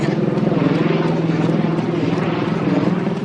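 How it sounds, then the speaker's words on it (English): A heavy-duty helicopter, likely Coast Guard, passes overhead with a loud, steady rotor drone and pulsing chop throughout, no talk over it. "There goes a heavy-duty chopper."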